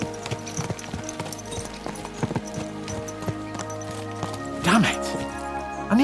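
Horse hoofbeats clip-clop at a steady rhythm in Kingdom Come: Deliverance 2, several horses ridden along with a brief whinny or snort near the end, set against a busy in-game background and a speaking voice.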